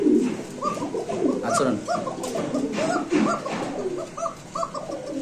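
Pigeons at a pigeon market give repeated soft coos and throaty calls, fairly close and steady, mixed with a busy bird chorus, while a voice briefly speaks.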